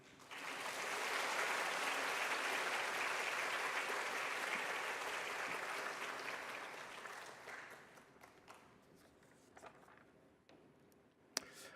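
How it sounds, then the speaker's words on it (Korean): Church congregation at a Sunday afternoon service applauding warmly to welcome a missionary to the front, a dense, steady clapping that fills the room for several seconds, then thins and fades out with a few scattered claps. "가장 뜨거운 박수로 우리 환영하는 마음으로 맞이하도록"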